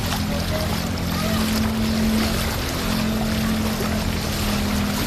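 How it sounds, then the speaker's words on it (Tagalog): Strong floodwater current rushes near a bridge in flooded Olongapo City, Philippines, a loud continuous roar and wash with a steady low hum running underneath throughout. "ang lakas ng agos"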